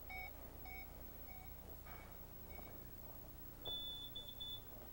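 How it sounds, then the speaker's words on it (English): Home alarm system keypad tones after pressing the status key, a few short electronic beeps followed by a longer steady tone, faint and close in a quiet room with no talk. "Did you notice you get one long tone and then two short tones?"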